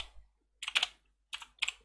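Two short bursts of quick, crisp keystrokes on a computer keyboard as a Python command is entered, close and clear with a brief pause between them.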